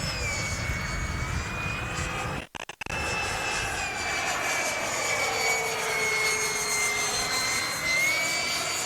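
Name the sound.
Durafly Vampire V3 RC model jet flying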